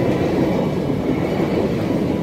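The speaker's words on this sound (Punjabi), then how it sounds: "ਇੰਨੀ ਲੰਬੀ ਟ੍ਰੇਨ ਦਾ ਐਂਡ" A very long train passes a closed level crossing in Punjab, its wagons producing a loud, steady low rumble and rolling wheel noise close by, with no break in the sound.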